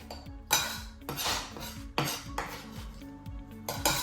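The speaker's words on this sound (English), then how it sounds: "And then we simply just need to mix everything together" Diced pickles mixed with sauce in a bowl: a utensil clinks and scrapes against the dish in several distinct strokes, close up, with no talking.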